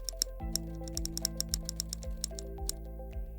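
Quick, light keystrokes tapped on a computer keyboard while entering a search in Microsoft Store, an uneven run of sharp clicks close by over a low steady hum, with no talking.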